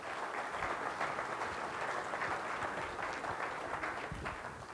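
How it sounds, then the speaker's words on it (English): An audience at a conference general session applauds with dense, sustained clapping that holds steady for several seconds before tapering slightly, with no speech over it. "Mr. Nathan Wanamaker, let's give him a round of applause."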